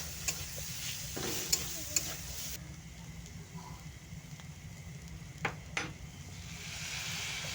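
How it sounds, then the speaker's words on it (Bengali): Mashed jackfruit and onion fry in a pan with a steady low sizzle, broken by a few soft clicks and scrapes of stirring, fairly quiet throughout. "ভালো করে কাঁঠালটাকে ভেজে নিয়ে"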